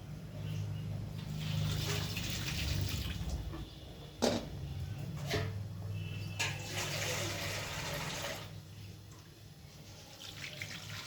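Tap water runs steadily while raw green tamarind is washed by hand in a kitchen sink, with a few sharper splashes and clatters breaking the continuous flow.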